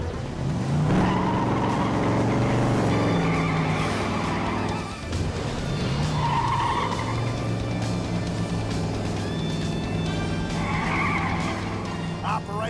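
Cartoon race cars at the start of a race: loud tire skids and engine squeals with whooshing effects, mixed with voices and music.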